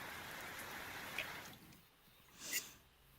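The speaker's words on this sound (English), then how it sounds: "Oh, I do like a good rain sound." Rain sound effect in a streamed reading session, a steady broadband hiss of falling rain with a few brighter drip-like accents, fading partway then swelling again, fairly quiet with no talking.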